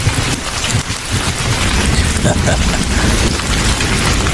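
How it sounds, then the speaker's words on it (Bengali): Heavy rain from a nor'wester (kalbaishakhi) storm pours steadily and loudly at close range, a dense continuous downpour with no break across the whole stretch. "এই বৃষ্টি কখন যে থামবে বলো তো"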